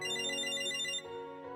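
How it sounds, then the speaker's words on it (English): A bright electronic phone ringtone plays in the Date A Live visual novel game, a steady melodic tone pattern that cuts off after about a second, leaving a softer lingering tone. "A phone call?"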